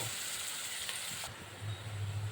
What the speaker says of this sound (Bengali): এই ছেঁচে রাখা আদাটা দিয়ে আবার ওই নাড়াচাড়া সুন্দর একটা গন্ধ বেরো ততক্ষণ পর্যন্ত একটু নেড়ে চেড়ে